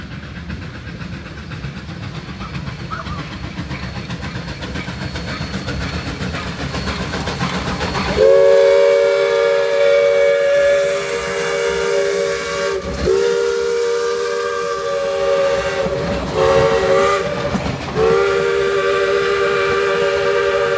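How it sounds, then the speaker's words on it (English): Durango and Silverton steam locomotive 480 hauls a 15-car train south through 36th Street during a thunderstorm, with hissing and rumbling building before a loud, sustained steam whistle blows in several long blasts with short breaks. "480 and its 15-car train glide south through 36th Street"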